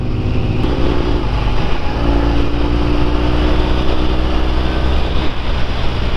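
A 1975 Norton motorcycle is ridden on the road, its engine giving a steady, loud drone with wind rush that holds without a break.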